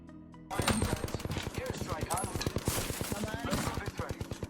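Rapid automatic gunfire from a weapon in the battle royale video game Apex Legends, a dense stream of close, loud shots firing in a fast steady rhythm after a brief quieter lead-in.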